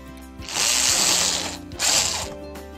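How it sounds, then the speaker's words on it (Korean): Two whirring bursts from a screwdriver driving the remaining screws into a Samsung slim desktop computer case, close and fairly loud, each a sustained mechanical buzz with a short pause between. "나머지 나사 쪼을게요."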